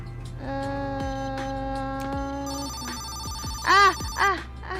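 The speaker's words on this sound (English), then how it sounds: "Phone." A phone rings in the video game Recycling Center Simulator, an electronic ringtone with a steady tonal phrase followed by a warbling, bell-like trill, over faint game ambience.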